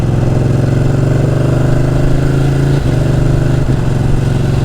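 Ducati 1299 Panigale motorcycle engine droning steadily while riding, loud and close with a constant tone and a couple of brief dips near the end, no talking.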